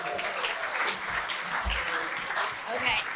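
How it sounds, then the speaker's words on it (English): Audience at a sales leaders' event applauds a speaker's introduction, a dense continuous clatter of clapping, with some voices mixed in beneath. "Round of applause, please."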